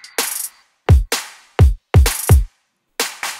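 A hip-hop style drum loop for a slap house remix of a Christmas pop song plays loud and dry, with sharp snare hits and deep booming kicks in a syncopated pattern, repeating across a few seconds with no voices.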